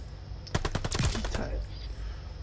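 A quick burst of about eight to ten SMG shots fires in a rapid rhythm in an online shooter match, fairly close and crisp, then fades into low background noise.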